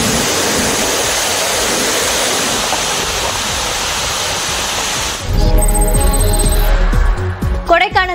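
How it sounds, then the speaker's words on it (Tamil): Water gushes down Kaviyaruvi (Monkey Falls) waterfall in a loud, steady roar that dominates the first five seconds, then drops lower as a voice starts talking over it for the rest. "குரங்கருவி எனப்படக்கூடிய கவியருவியில் தண்ணீர் ஆர்ப்பரித்து கொட்டுகிறது"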